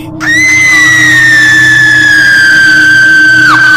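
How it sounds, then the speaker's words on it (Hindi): A girl's loud scream serves as a horror-story sound effect: one shrill, piercing cry held for about three seconds, pitch sagging slowly before a sharp break at the end. "तभी वो लड़की इतनी जोर से चीख पड़ी"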